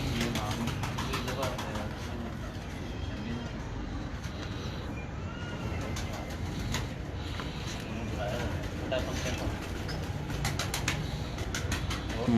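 Breeder pigeons coo and flap in a loft, soft murmuring calls and occasional wingbeats scattered through steady background noise while someone talks over them.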